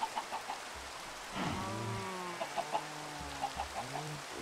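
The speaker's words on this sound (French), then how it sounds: "maintenant on va chercher les poulets" Chickens cluck and squawk close by, several birds making short calls and one drawn-out vocalization, with light pattering in the background.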